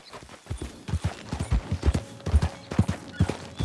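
Horse hooves clip-clop in Red Dead Redemption 2 as a horse is ridden toward town, a steady, fairly close rhythmic clatter of beats with no talking over it.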